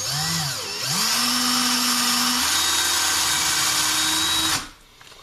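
A small power drill with a 2.69 mm bit, working on a DIY FPV spider quadcopter, spins up, then bites in with a loud, steady high-pitched whine that shifts pitch midway, running several seconds before cutting off.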